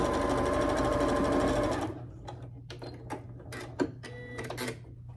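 A sewing machine stitches quilt block squares in a steady, fast mechanical whir for about two seconds, then stops, followed by soft handling of fabric and small clicks nearby.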